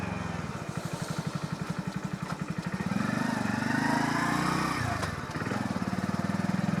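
A Hero HF Deluxe Flex Fuel motorcycle ticks over with a rapid, even single-cylinder putter, then revs up and pulls away into a louder sustained drone that dips briefly and picks up again, recorded close.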